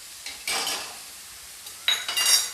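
Crushed garlic tipped into onions frying in a pan and stirred, with a few bright scraping and clattering spoon-on-pan strokes over a faint sizzle.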